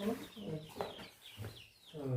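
Chickens cluck nearby in a rural yard, short clucks mixed with a person talking over a continuous outdoor background.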